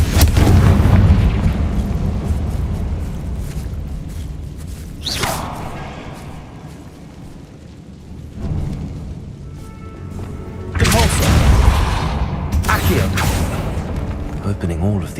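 Fiery Confringo spell blasts boom out during Hogwarts Legacy combat, several heavy bursts at intervals over a rumbling low-end bed, with a voice speaking between them.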